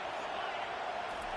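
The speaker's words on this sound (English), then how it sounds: "Listen to this crowd just shaking the girders of this place" Stadium crowd in College Football 25 roaring steadily as a dense, broadband wash, loud and continuous throughout with no distinct voices rising above it.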